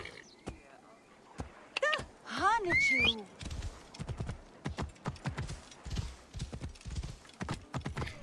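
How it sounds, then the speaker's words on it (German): In the video game Assassin's Creed Origins, a horse whinnies, then hooves clatter in a quick, steady galloping rhythm close by, with a voice talking over parts of it. "Na gut, ich rufe mein Pferd."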